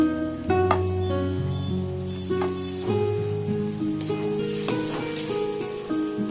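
Tomatoes and green chillies frying with half-fried onions in a pan, a steady sizzle running throughout with spatula stirring and scraping on top, with faint background music.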